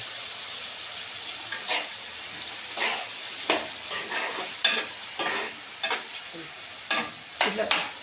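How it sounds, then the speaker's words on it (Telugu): Tempering of garlic, chilli and asafoetida sizzles in hot oil in a pan for red chilli tomato chutney, a steady frying crackle with repeated bursts of stirring and spattering, close and fairly loud, with no voices. "ఇట్లా తాలింపు వేసుకొని ఒక 5 నిమిషాలు మగ్గనిద్దాం."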